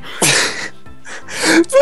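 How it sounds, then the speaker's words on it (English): A person sneezes loudly and up close, with a sharp burst followed by further nasal bursts and a short squeaky tail, in a casual gaming session. "I'm gonna sneeze again"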